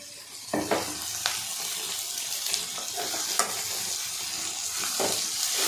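Sliced bitter gourd sautés in a pan for a Tamil kulambu, with a bright, continuous sizzle and periodic scraping stirs of the spoon against the pan.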